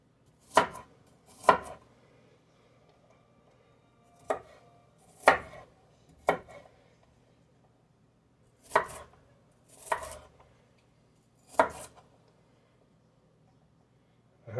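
A knife chops an onion on a cutting board, giving about ten sharp, separate knocks in loose pairs with quiet pauses between. The strikes are close and crisp, with no talking.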